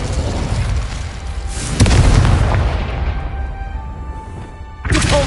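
A Confringo fire spell blast in Hogwarts Legacy, a loud deep boom that swells and then rumbles away slowly, with a sharp new burst right at the end.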